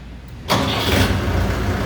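Shifeng 404 tractor engine starting up after a brief quiet moment, then running with a loud, steady mid-pitched diesel clatter close by, no talking.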